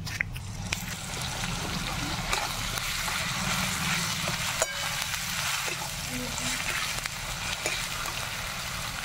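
Ginger paste goes into a pot of mutton with a soft, continuous frying hiss and occasional stirring clicks, fairly quiet and steady throughout, without anyone talking.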